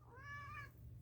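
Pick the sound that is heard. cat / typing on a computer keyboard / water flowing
cat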